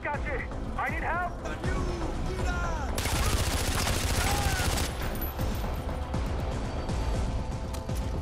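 In Far Cry 4, soldiers assault a weapons cache with dense bursts of rifle and automatic gunfire, crashing impacts and explosions. Voices talk over the chaos throughout.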